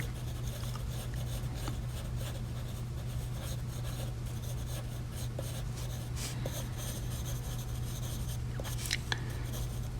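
A pencil draws a portrait on paper with soft, continuous scratching and short strokes, fairly faint and close, over a low steady hum with no talking.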